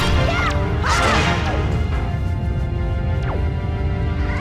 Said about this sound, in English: So what I do here is I break the rocks for money